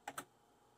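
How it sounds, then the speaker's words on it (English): Two quick, quiet keystrokes on a computer keyboard while a password is entered, close and isolated with no talking. "Type in the password."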